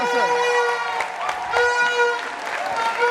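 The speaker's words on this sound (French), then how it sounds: "applaudissements aux danseurs" Applause for dancers at a live stage show, a dense wash of clapping throughout, overlaid by sustained tonal sounds like horns or music and shouts from the crowd.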